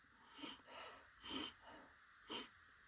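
Close, breathy sniffs at takeaway food from a one-star Chinese takeaway in Ferryhill, County Durham, with three sharper inhales standing out among softer ones in a slow, uneven rhythm.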